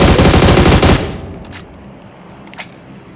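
Gunfire in the battle royale game PUBG Mobile, a loud rapid automatic burst for about a second, followed by a quieter stretch with a couple of distant single shots.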